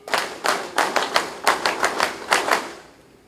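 A graduation audience at a Philippine Army Reserve course ceremony claps in sharp, uneven bursts, close and distinct, tapering off near the end with no talking.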